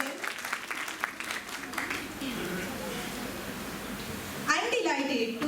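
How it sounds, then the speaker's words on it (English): Audience applause for two students after their presentation at a National Science Day school event, a steady wash of clapping from a crowd with a fresh louder burst near the end. "Please let us have a loud applause for them."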